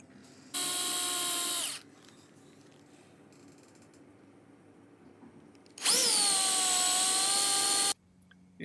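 Power drill boring into a wooden RV dining tabletop, two loud sustained whines of about a second and two seconds, separated by quiet room tone, the second burst starting with a rising pitch.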